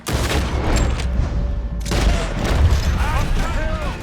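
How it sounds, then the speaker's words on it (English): Battle gunfire in the video game Red Dead Redemption, with rapid bursts of shots and booms close up, a brief lull, then more heavy firing while a character shouts over it. "Try to flank them, Arthur. We'll shoot you some space"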